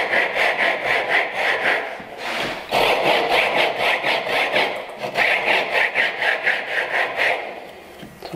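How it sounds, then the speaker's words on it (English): A hand rip saw cuts wood for a bridle joint, producing a steady run of close, loud rasping strokes in an even back-and-forth rhythm, with one short pause partway through. "I just basically start to cut with this, so it's easier, because the rip saws tend to grab the wood at the very beginning"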